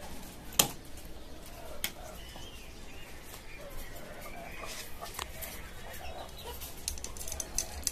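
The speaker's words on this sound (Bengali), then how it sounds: "এখানে একটা দেশি মুরগি।" Free-ranging desi hens in a caged backyard poultry farm, with occasional soft clucks and rooster calls at moderate distance amid steady ambient noise and sharp knocks.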